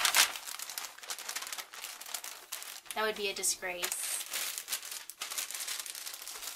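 Tissue wrapping paper crinkles and crumples steadily while a pair of Prada items is wrapped for shipping, a soft close rustle running throughout with a brief stretch of speech in the middle.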